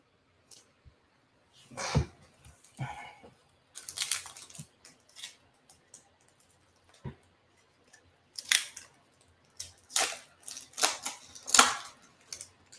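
Trading card packs being torn open and handled at a desk, bursts of crinkly wrapper tearing and rustling come in clusters with quiet gaps between them, close to the mic.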